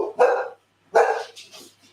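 A dog indoors lets out two loud, close barks with a gap between them, followed by softer, shorter yips.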